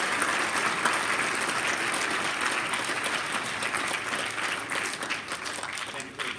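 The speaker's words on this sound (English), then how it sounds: "Can we get another round of applause for Senator Bernie?" A school audience at a Veterans Day assembly gives a round of applause for a senator; a dense, sustained roar of many clapping hands, loud and continuous, gradually tapering slightly toward the end.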